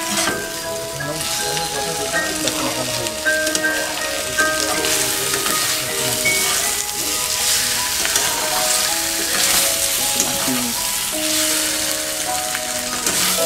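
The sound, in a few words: fried eggplant being mixed with spices in a pan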